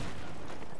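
Bulldog gunfire in the Battlefield 4 video game: a short, loud burst of rapid shots that crackle together into dense noise, filling under a second with no pauses.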